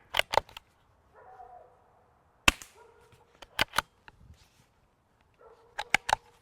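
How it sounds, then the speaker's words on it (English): A neighbour's dog barks in short tonal bursts at a distance, with sharp, muffled gunshots cracking loudly before and between the barks. "That's the neighbor's dog."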